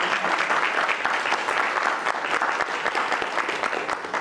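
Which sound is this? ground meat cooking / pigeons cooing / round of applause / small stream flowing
round of applause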